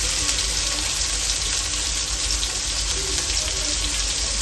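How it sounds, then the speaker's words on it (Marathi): Black pomfret fish frying crisp in a pan, Agri Koli style, giving a steady, loud, close sizzle and hiss that holds evenly throughout with no talking. "हे बघा, बघू शकता मच्छी फ्राय."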